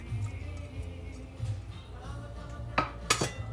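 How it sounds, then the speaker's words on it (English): Stirring tomatoes and crushed ginger in a rasam pot, soft scraping and a few sharp metallic clinks of a spoon against the pot near the end, fairly close and quiet. "So I'm going to give it a quick stir"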